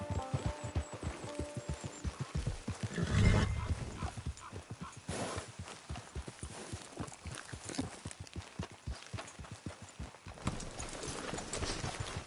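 Horse hooves clip-clopping at a steady walking rhythm in the Red Dead Online video game, close and continuous for about twelve seconds, with a brief whinny-like swell near the start and a low background hum.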